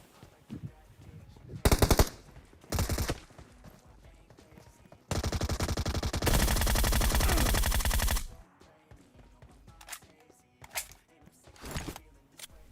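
Groza assault rifle fire in the mobile game Battlegrounds Mobile India, with short bursts and then a long sustained burst of loud automatic shots, separated by quieter game sounds.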